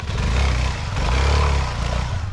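A Suzuki DR-Z4S dual-sport motorcycle rides singletrack over Central Oregon rocks and sand; its engine drones loud and close, swelling and easing slightly with the throttle.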